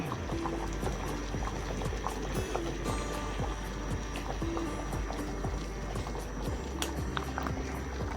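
A pot of cassava with salt and turmeric bubbling steadily at a rolling boil on a stove, a constant dense burble of popping bubbles with a low hum underneath.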